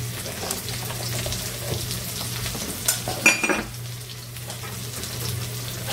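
Ginger-garlic paste hits hot oil in a pan with a continuous crackling sizzle, a low steady hum beneath and a brief louder burst of spattering midway.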